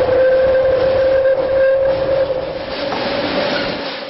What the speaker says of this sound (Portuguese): Partimos em um trem de subúrbio. Logo cruzamos o túnel do Botujoru.